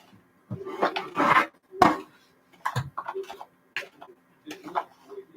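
Shawarma ingredients being stirred together in a bowl, giving irregular clinks and scrapes of utensil against the bowl in short bursts, fairly close, with brief pauses between strokes.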